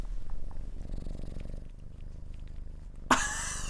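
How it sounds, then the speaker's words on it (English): Cat purring right up against the microphone, a low continuous rumbling purr for about three seconds, followed by a sudden sharp rustle or bump. "you can hear her purring. Put her close to the mic."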